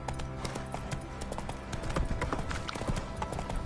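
A horse gallops in a PS4 video game, its quick clip-clop hoofbeats close and continuous for a few seconds over game ambience.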